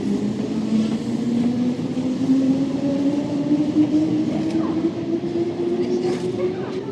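A train runs steadily, a continuous close rumble with a slowly rising tone, heard from on board.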